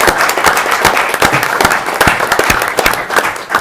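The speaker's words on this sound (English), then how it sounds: "let's give them both a round of applause" A crowd at a city council meeting breaks into sustained applause, many hands clapping steadily and loudly throughout.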